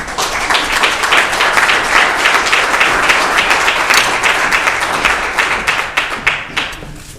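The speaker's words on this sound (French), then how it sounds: "J'aimerais qu'on applaudisse chaleureusement Mme Denise Saint-Gelais pour venir prendre la parole" Warm applause at a naming ceremony for the St-Jérôme sports centre, welcoming a speaker to the podium; loud, dense clapping that thins into scattered individual claps toward the end.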